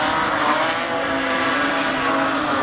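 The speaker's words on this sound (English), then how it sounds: "That car free revving at the back of the field" Modified race car engine free revving at a speedway, a continuous loud roar with a steady high-pitched whine and dense engine noise from the field throughout, no voices.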